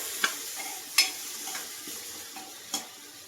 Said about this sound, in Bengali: আলুটা আগে দিয়ে দেবো দিয়ে আর একটু নেড়ে ছেড়ে নেবো